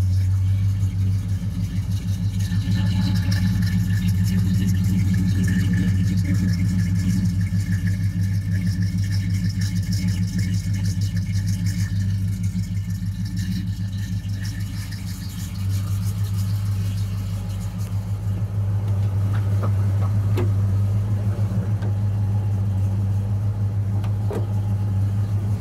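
A 1971 Oldsmobile Cutlass with a 350 V8, mild cam, headers and dual exhaust idles with a steady low rumble, loud and close, with a slight dip and recovery in level midway.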